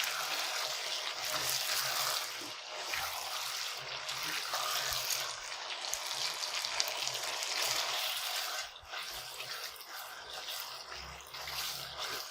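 Chicken malai tikka pieces frying in a pan on a stove give a steady, moderate hiss and sizzle, continuous and close with no talking.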